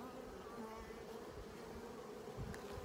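Honeybees at an open hive during an inspection, feeding grubs among the brood, make a steady, dense close-up buzzing hum that holds evenly throughout with no voices.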